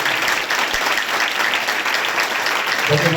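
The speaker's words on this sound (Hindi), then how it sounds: "और जोरदार ताली" A church congregation claps loudly for Jesus during a Christian sermon, a dense, sustained wall of applause filling the room steadily from start to finish, with a faint voice emerging at the very end.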